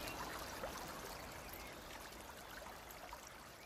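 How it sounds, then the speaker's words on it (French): The Ognon river flows near Besançon, a faint, steady rush and trickle of water without pause, no voices. "À 20 minutes de Besançon coule une rivière, l'Ognon."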